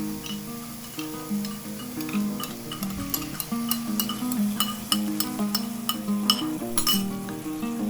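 Spicy noodles cook in sauce in a pan, sizzling steadily while a utensil stirs and scrapes, with repeated sharp clinks against the pan at a fairly even rhythm.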